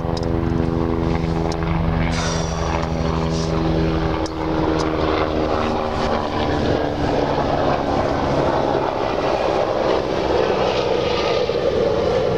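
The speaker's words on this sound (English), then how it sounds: "Let this helicopter go by." A loud, steady helicopter drone with a low throbbing engine hum fills the whole stretch, swelling and shifting slightly as it passes nearby.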